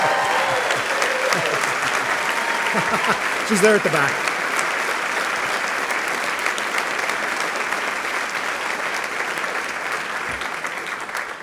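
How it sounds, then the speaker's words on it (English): Sustained applause from an audience at a Dalhousie University Schulich School of Law spring convocation ceremony, steady and full across the room, with a brief spoken remark over it near the start. "So give me an applause"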